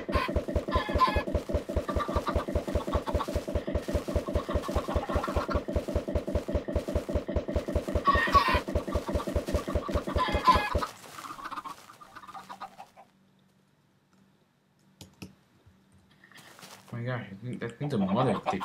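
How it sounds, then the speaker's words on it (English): A steady rapid stream of clucking chicken calls from a Minecraft-style video game for about ten seconds, then it cuts off, leaving quieter scattered sounds and a brief voice near the end. "Lots of chickens, man."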